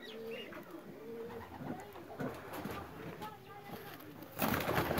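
Fancy pigeon breeds on a Sialkot rooftop coo in low, repeated throaty calls while someone talks over them, with a brief rustle near the end.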